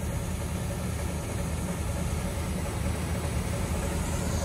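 A tractor engine runs steadily in a wet, harvested field where the rear tyres have sunk in, giving a continuous close, loud low rumble and idle-like drone for the whole stretch with no talk.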